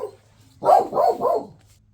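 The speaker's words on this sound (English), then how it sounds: "The neighbor's dog's out there barking." Three quick barks from a dog at moderate distance, evenly spaced, over a faint low hum.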